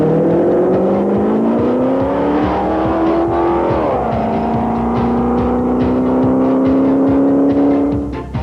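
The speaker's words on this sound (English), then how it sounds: "Phil Henry from Henderson, Nevada, drives a stock '86 Corvette." A stock 1986 Corvette races on an open-road course in the Silver State Classic, its engine roaring loud and close with steadily rising pitch through the gears and a brief dip as it shifts.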